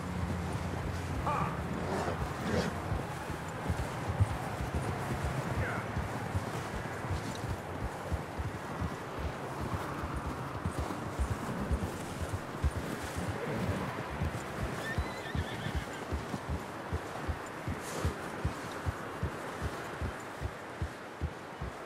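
Horse hooves clip-clopping at a steady pace across rough ground in Red Dead Redemption 2, a dense rhythmic patter under constant ambient noise, with faint voices and possible brief whinnies.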